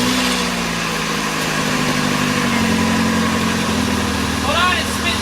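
A car fitted with new aftermarket headers idles steadily, a loud, even exhaust rumble close by, with a brief voice rising over it near the end.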